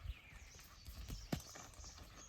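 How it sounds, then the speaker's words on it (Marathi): Bullocks walking a paddy field while ploughing, giving a soft, uneven plodding of hooves through wet ground with splashy thuds and a few sharper footfalls, heard close against a low outdoor background. "आणि आता हे बैल फिरवू लागले आहेत."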